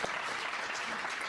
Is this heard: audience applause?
yes